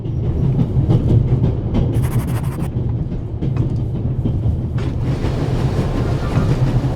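A train in the video game The Raven: Legacy of the Master Thief runs at full speed, a steady loud rumble with rhythmic clatter of wheels and a brief hissing burst, continuous throughout with no voices.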